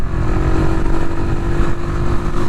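A stock, unmodified Suzuki Skywave 125 NR scooter engine runs while being ridden, loud and close with a steady droning hum and a constant rough rumble underneath.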